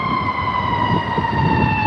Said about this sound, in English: No, that's just a fire truck passing by.